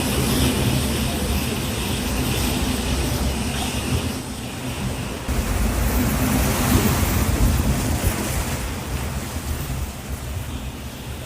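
Typhoon storm lashing Japan, with strong wind and heavy rain roaring steadily, broad and loud throughout, swelling slightly stronger in the second half with no speech over it.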